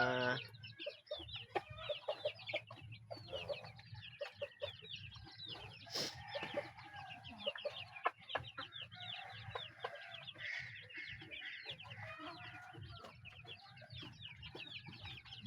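Gamefowl chickens on a farm cluck steadily in a dense, overlapping chorus, with the occasional distant crow, under a low background hum.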